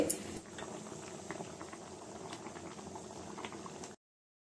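A pot of sambar with greens bubbles and simmers steadily, with soft popping and gurgling, close by and on its own with no voices.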